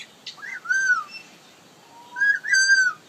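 A cockatiel whistles and mimics wild bird calls in two short bursts of bright, sliding chirps and warbles separated by a quiet pause, close and clear against a hushed background.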